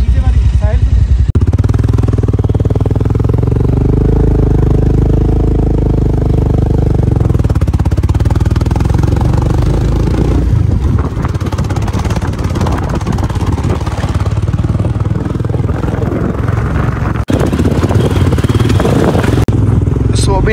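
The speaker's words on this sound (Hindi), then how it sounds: "आज अपनी बाइक पे पहली बार पीछे बैठ रहा हूँ" A motorcycle engine runs steadily through the whole stretch on a Ladakh mountain trek, the rider carrying a passenger, with a loud continuous rumble under voices talking.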